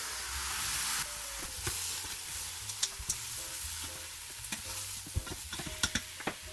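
Ground meat sizzles steadily in a pan while a utensil breaks it up, with close, sharp scrapes and taps scattered over the constant frying hiss.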